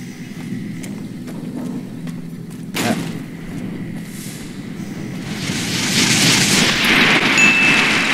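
A grenade explodes in Fallout: New Vegas with a sharp, loud burst. Dense rumbling noise rises and holds afterward, over a steady low game background.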